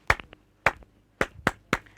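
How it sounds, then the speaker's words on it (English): Five sharp hand claps ring out alone at close range, two quick ones, a pause, then three more in an uneven rhythm. "1, 2, 3, I clap my hands"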